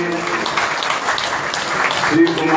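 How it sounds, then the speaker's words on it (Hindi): An audience at a Hindu Ram Katha religious discourse gives dense, sustained applause, a steady wash of many hands clapping at an even loudness throughout. "जोरदार तालियां बजाइए"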